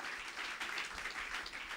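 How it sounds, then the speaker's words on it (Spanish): A church congregation applauds together in a dense, steady wash of clapping, moderately distant and continuous throughout. "Dale un aplauso fuerte a nuestro Dios."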